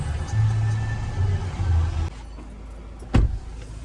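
A car's engine runs close by while it is parked, then cuts off abruptly, leaving near silence before a single sharp thump.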